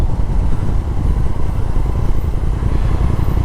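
Triumph motorcycle engine on a demo ride, a loud, steady low rumble with rushing noise filling the whole clip, close and continuous, no talk.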